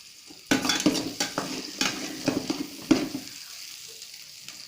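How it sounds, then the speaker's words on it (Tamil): Onions sautéing in a pan for pirandai thuvaiyal, a soft sizzle broken by repeated scraping stirs of a spoon against the pan, close and moderately loud, fading toward the end. "வெங்காயம் கொஞ்சம் வதங்கட்டும்"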